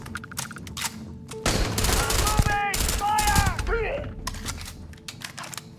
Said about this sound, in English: This is a three burst shot.